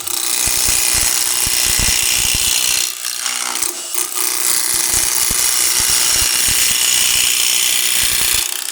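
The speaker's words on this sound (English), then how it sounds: "The first thing I'm going to do, of course, is square it up. I'm using a Thompson 3/8 inch V gouge, bowl gouge." A Thompson 3/8 inch bowl gouge cuts into a spinning 2x4 pine bowl blank on a lathe, giving a loud continuous rasping hiss with rapid rhythmic knocks and a short lull midway.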